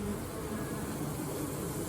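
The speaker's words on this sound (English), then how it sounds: "Worker bees come in this hole." Dense, continuous buzzing of many honey bees at a hive entrance, a steady hum close by with no other sounds.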